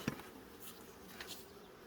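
Bees in a hive during an inspection give a faint, steady buzzing hum, with a brief soft knock near the start and no one talking.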